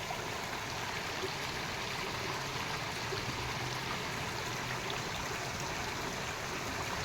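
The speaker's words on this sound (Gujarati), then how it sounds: "ચાલુ થઈ ગયો છે વરસાદ, દેખાય પાણીમાં વરસાદ આવે છે" Rain patters steadily onto open water, a dense, even hiss with no breaks, fairly faint and steady throughout, with no voices.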